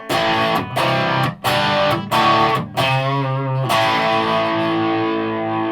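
An electric guitar plays through a heavy super distortion effect, with loud, sustained distorted chords broken by short gaps before one long ringing chord.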